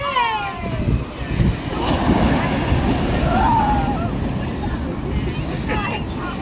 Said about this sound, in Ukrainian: Такі хвилі міцні.